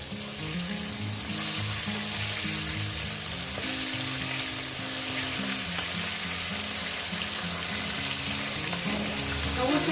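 Fish fry in hot oil in a pan for a Bengali fish curry, a continuous close crackling sizzle that holds steady and grows slightly louder toward the end, with no talking.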